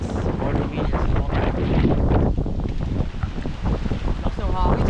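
Strong wind on an island buffets the microphone with a loud, steady roar, and water or waves may sound underneath while voices talk over it.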